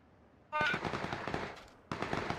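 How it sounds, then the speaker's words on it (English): Automatic gunfire in the video game PUBG: a rapid, loud burst of shots starts abruptly, then a second burst follows about a second later, close and alone without talk. "switch over to automatic fire"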